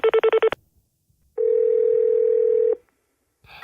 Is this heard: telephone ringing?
yes